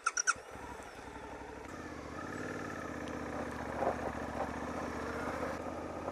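A Suzuki V-Strom 800DE motorcycle on a flat dirt road on on/off tyres, its engine a steady, close mid-pitched drone throughout, opened by a few sharp knocks.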